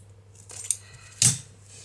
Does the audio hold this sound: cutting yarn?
yes